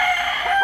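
A rooster crows, a loud, sustained, strained cock-a-doodle-doo heard close up and alone, brief and without other sounds.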